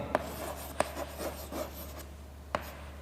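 Marker or chalk writing code on a board in a classroom lesson, a few short scraping strokes with sharp taps, close and clear against a quiet room hum.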